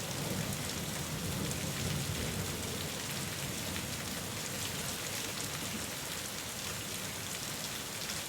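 Steady rain falls in a dense, even hiss with low rumbling thunder underneath, continuous and fairly close with no voices.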